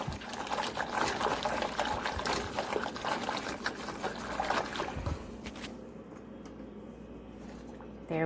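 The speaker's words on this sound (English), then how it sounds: "I'm going to give it a stir" A spoon stirs sugar into cream of wheat in a pot, giving soft scraping and liquid sloshing sounds close up that continue for several seconds before fading to quiet.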